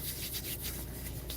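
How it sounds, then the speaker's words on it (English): Hands rubbing together with sanitizer inside a parked car, a steady close, soft swishing friction that continues without a break. "Now, before I get out of the car, hand sanitizer."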